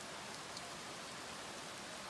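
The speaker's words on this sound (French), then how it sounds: "la pluie se remet à tomber à nouveau" Rain falls steadily during storm Fabien in Charente, a dense, even hiss of drops on surfaces with no break and no voices.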